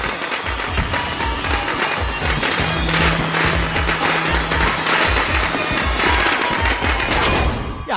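Firecrackers burst in a Tamil Nadu victory celebration: dense, continuous crackling and popping runs loud and close throughout, with a low hum underneath.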